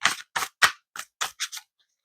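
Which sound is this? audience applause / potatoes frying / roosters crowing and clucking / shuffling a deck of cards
shuffling a deck of cards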